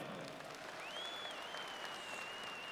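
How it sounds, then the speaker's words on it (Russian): Applause at the Dozhinki 2020 harvest festival in Vitebsk rolls on as a faint, steady, distant wash of clapping, with a thin high tone drifting over it. "Это заслуживает громких аплодисментов"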